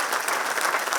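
A brief burst of dense audience applause at a World Cancer Day event in Mumbai, steady, moderately loud clapping from many people with no speech on top.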